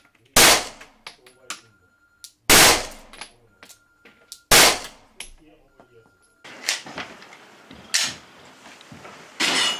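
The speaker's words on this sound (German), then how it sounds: "wie sich die Glock 17 Generation 3 im scharfen Schuss verhält, seht ihr jetzt im folgenden Video" Loud Glock 17 Gen 3 pistol shots crack out one at a time with pauses between, then a quicker string of shots follows, close and sharp.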